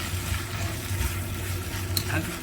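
Vegetables for jjamppong stir-fry in a pan with a continuous moderate sizzle and soft scraping as they are tossed; no voices are present.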